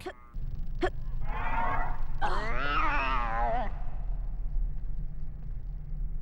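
Mrs. Norris, the caretaker's cat in the Harry Potter and the Philosopher's Stone video game, gives a short squeak and then two drawn-out wavering meows over a constant low game ambience.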